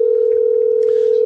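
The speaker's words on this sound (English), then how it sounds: "Let's get Andrew on the phone to play" A steady telephone dial tone sounds loud and unbroken while a call is placed, with a faint murmur of background voices near the end.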